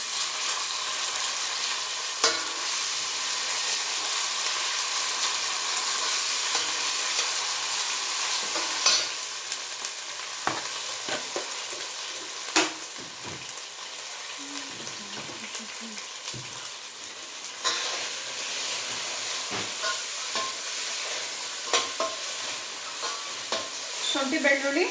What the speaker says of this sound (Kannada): ಈಗ 1 ಸ್ಪೂನ್ ಆಗುವಷ್ಟು ಶುಂಠಿ ಬೆಳ್ಳುಳ್ಳಿ ಪೇಸ್ಟ್ನ ಹಾಕ್ಕೊತಿದ್ದೀನಿ. ಎಣ್ಣೆಯಲ್ಲಿ ಚೆನ್ನಾಗಿ ಫ್ರೈ ಮಾಡ್ಕೊಂಬಿಡೋಣ.